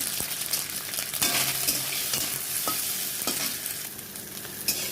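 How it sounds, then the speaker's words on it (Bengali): Soybean chunks fry in hot oil seasoned with mustard seeds, black cumin and dried red chillies, a continuous close sizzle punctuated by repeated scraping strokes of a spatula stirring the pan. "এবার আমি সোয়াবিনটা ভেজে নেব।"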